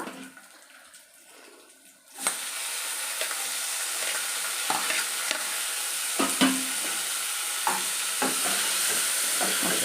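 Onion and masala frying in oil for hotel-style chicken chops: after a quiet start, a strong sizzle erupts and continues steadily, punctuated by occasional clinks and scrapes of a stirring spoon against the pan.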